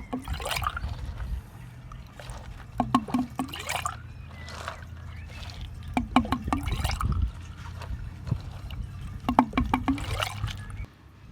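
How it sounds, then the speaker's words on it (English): Water gurgles and trickles as it drains from a patio pond through a pulled standpipe, with recurring bursts of gulping flow over a low steady rush. "I pull out this standpipe, and there we go. The water drains."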